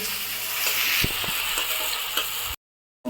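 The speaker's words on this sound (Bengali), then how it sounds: "ভালো করে পেঁয়াজটা নাড়ানো হচ্ছে যাতে পেঁয়াজটা তলে না লেগে যায়।" Onions frying and being stirred in a pan for a Bengali katla fish curry, a steady broadband sizzle with scraping stir strokes and clinks near the start, cutting to silence for a moment before resuming.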